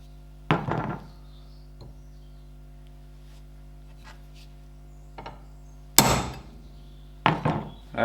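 A few sharp hammer taps on a punch against metal, marking a Ferguson TED20 tractor gear lever part for drilling, spaced irregularly, close and loud, with quiet hum and small clicks between them.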